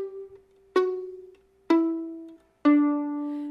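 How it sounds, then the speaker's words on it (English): Plucked strings on a beginner's violin held in guitar position, three clear ringing notes spaced about a second apart, each with a sharp attack and a long sustained decay, close and alone. "they need to produce a good, clear, ringing tone"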